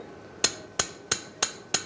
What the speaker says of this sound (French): Abdullah, tu prends le marteau et tu me tapes fort